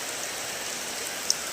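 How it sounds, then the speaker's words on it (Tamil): Heavy monsoon rain falls steadily as an even, dense hiss, with one small drop or tap standing out near the end and no voices. "எங்கள் ஊரில் எவ்வளோ மழை பெய்யுது பாருங்கள்"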